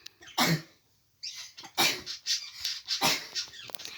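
Several sharp, explosive sneeze-like bursts erupt close by, separated by short quiet gaps, with rough breathy noise trailing each one.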